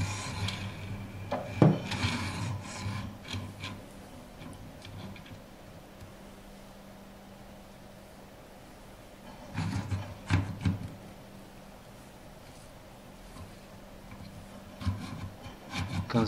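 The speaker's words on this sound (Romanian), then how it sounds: "Va intra fără problemă pe șină." An R30 mount sliding onto an X20 rail: soft scraping and rubbing of parts with a few light clicks, in short bursts near the start, the middle and the end, separated by quiet stretches.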